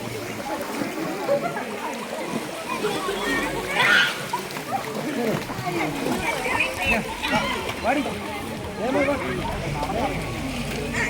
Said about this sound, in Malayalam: അവിടുന്ന് തോട് ഒഴുകി വന്ന് ഈ ഒരു പാറക്കെട്ടിൻ്റെ ഇടയിലേക്കൂടെയാണ് വരുന്നത്